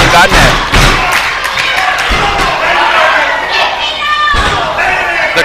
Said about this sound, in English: The crowd here getting behind Jacob Ashworth. I thought the walls were going to come crashing down here.